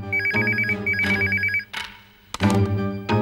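A telephone in a home rings in two clear repeated bursts of electronic trilling, loud and close, followed by a brief pause and another burst, with no talking over it.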